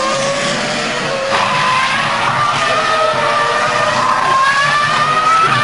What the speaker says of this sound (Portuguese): É o Williams andando forte.